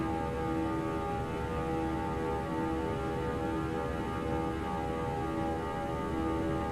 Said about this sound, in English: Love that growl from the engines. The buzzsaw.